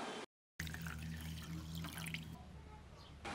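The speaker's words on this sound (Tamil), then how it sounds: "இதை தண்ணியில் ஒரு ரெண்டு மூணு டைம் நல்லா அலசி வச்சிடலாம்." Dal lentils being rinsed in water give a soft running, splashing wash of liquid, close and continuous for a few seconds after a brief gap, with a low hum beneath.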